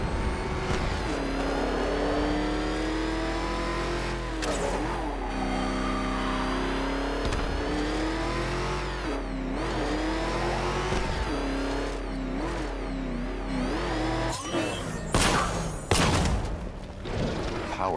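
Car engine in Batman: Arkham Knight revving and accelerating steadily for most of the run, with pitch rising and falling between gear changes, ending in a few sharp crashing bursts.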